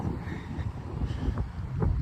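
Gusty wind buffeting the microphone outdoors in cold weather, a low, uneven rumble that swells and dips in short bursts for the whole moment.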